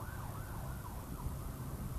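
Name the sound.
ambulance siren passing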